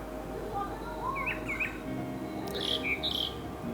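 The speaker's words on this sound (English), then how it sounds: "Oh, there's nice birds." Birds chirp and tweet outdoors in several short, bright calls, some rising and falling, with a quick burst of higher squawky notes near the end over a steady low background hum.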